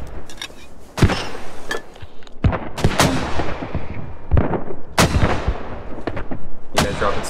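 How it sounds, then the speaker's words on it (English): HE mortar fire in the video game Squad: a series of loud, booming explosive impacts and launches, roughly five heavy blasts spaced about a second or two apart, with rumbling decay between them and no talk. "We're going to HE mortar there."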